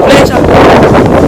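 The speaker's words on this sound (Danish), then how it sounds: "det er fordi at det blæser" Seaside wind buffets the microphone in a loud, rough rush that fills the short moment, with a voice speaking underneath.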